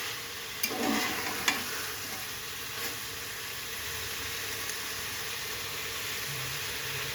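Mutton pieces being fried down in oil for a Bengali goat curry with potatoes, giving a steady, close sizzle and hiss with a few brief stirring clatters near the start and no voices.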